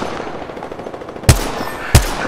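Two sharp, loud gunshots from Apex Legends ring out about two-thirds of a second apart, standing out above a busy game soundscape.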